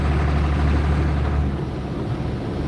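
Steady low rumble from a 1986 Ford CF7000 truck with a big-block diesel of about 7.8 liters, heard from inside while driving, loud and continuous with a droning low-end hum and no talking.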